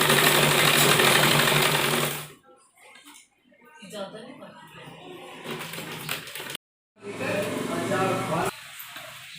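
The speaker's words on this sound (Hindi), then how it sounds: "थोड़ा थोड़ा कपड़ा अंदर की तरफ फोल्ड करते हुए, और इतनी बारीक हम सिलाई करेंगे" An electric sewing machine hems the folded edge of a churidar pajama leg in several fast, steady whirring bursts with short quiet pauses between them, and a voice talks between the runs.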